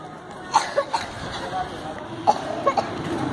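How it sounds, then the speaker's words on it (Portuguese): Several short, sharp coughs scattered through a noisy scene, with voices and background bustle around them. "Eita, tosse lascada."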